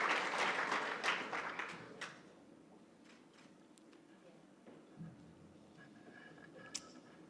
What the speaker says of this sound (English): one more round of applause for our Young Official of the Year finalists